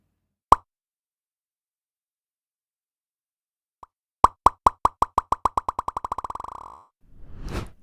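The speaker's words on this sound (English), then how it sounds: "A great plugin for creative effects that can deliver up to 128 delay taps" A single plop, then after a pause another plop repeats in a rapid train of echoes, speeding up and fading, followed by a short burst of scattered clicks.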